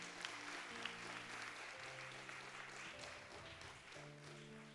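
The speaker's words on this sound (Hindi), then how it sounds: "ताली बजाएंगे जोर से, हालेलुया।" A Sunday church congregation claps steadily together, quiet and somewhat distant, with sustained musical notes underneath throughout.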